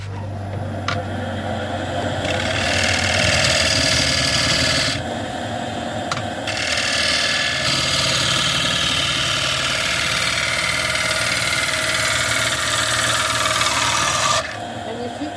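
A wood-carving gouge being sharpened on a motor-driven grinder or hone, a steady mid-range engine hum under a continuous rasping, rubbing scrape that cuts in and out in long passes, close and fairly loud.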